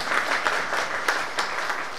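Audience applause at a Hindi fortnight closing ceremony, steady dense clapping with small swells throughout, fairly close and filling the hall.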